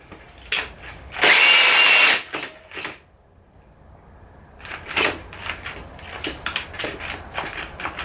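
A Ryobi cordless drill driver under heavy load lets out a loud, strained whir in a one-second burst, followed by short stuttering bursts as it cuts out and restarts, with scattered knocks and rattles between.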